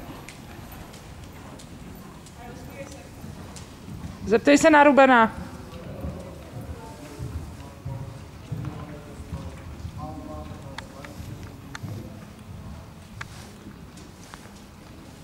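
A ridden horse's hooves clip-clop in a steady rhythm at close range, moderately loud, while a person speaks and a horse gives a short whinny partway through.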